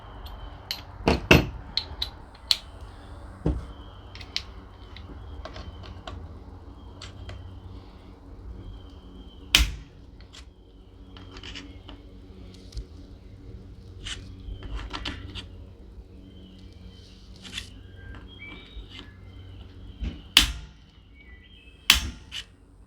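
A torque wrench set to 35 inch-pounds tightens scope ring screws on a Ruger American Tactical .308 rifle, giving scattered sharp clicks and ticks at irregular intervals over a quiet background.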